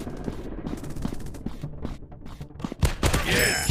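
Gunfire from a counter-terrorist first-person shooter game: rapid bursts of sharp shots and a short volley, loud and close, with quieter rattling between the bursts.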